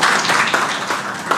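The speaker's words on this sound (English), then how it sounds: "which should get another round of applause" A small audience claps briefly at a fireside chat on second career opportunities, scattered hand claps sounding close and fairly steady for a moment.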